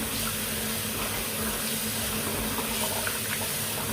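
Tap water runs steadily into a pot while rice is rinsed in a home kitchen, a constant close splashing gush with no pauses and no talk.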